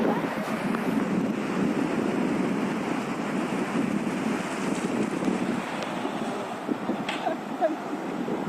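Sea waves wash onto a beach in a continuous, even surge, blended with gusty wind noise buffeting the microphone.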